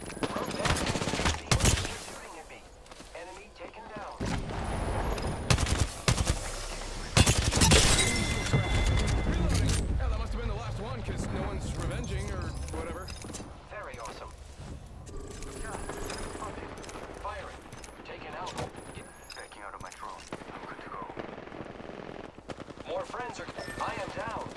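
Sustained automatic gunfire in the Apex Legends battle royale, bursts of rapid shots mixed with explosions and clanking effects over nearly 25 seconds, while a voice talks over the action.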